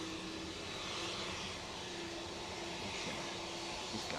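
A jet airliner departing Manchester Airport, heard as a steady, broad engine roar that holds level throughout, with a faint tonal whine above it and no talk.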